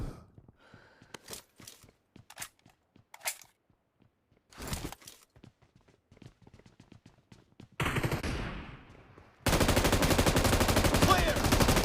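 Gunfire in the mobile battle royale game PUBG, scattered sharp shots with gaps between them, followed by a sustained dense burst of rapid automatic fire at the end.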